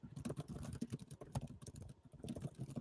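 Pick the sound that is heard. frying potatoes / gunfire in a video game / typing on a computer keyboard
typing on a computer keyboard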